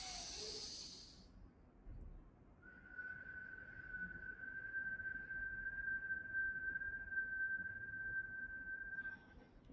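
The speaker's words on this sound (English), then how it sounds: "exhaling through the mouth in a whistle" A long whistling exhale through the mouth during a breathing kriya, a single thin steady tone held for about seven seconds, soft and close in a quiet room.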